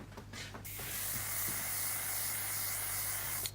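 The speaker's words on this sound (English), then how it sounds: "I sprayed the roots like this." Hairspray misted onto the roots of hair: a steady, close aerosol hiss lasting about three seconds, starting and stopping cleanly with a brief rustle at each end.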